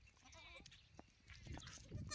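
Goats and young kids bleat on a goat farm, several short calls rising at intervals over a busy outdoor background of rustling and movement.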